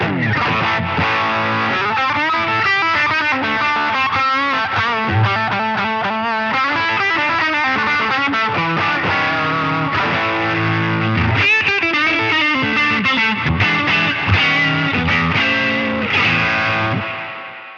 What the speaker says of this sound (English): So here's how the spring reverb sounds.